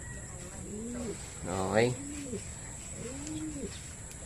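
Racing pigeons back from a race coo in repeated soft, rounded calls, with one louder burst of layered cooing in the middle and a short spoken word over a faint high steady tone.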